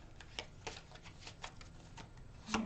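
Tarot cards being shuffled produce a quiet string of soft, quick papery flicks at an uneven pace, close by, with one slightly louder snap at the end.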